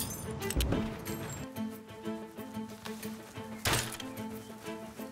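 Pickaxe striking stone in Rust, two sharp heavy thunks spaced a few seconds apart, close and distinct over a faint background tone.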